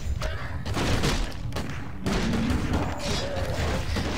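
Siege attack on a town in Warcraft 3, with heavy thuds, booms and clashing battle noise rolling steadily, loud and close, with no talk over it.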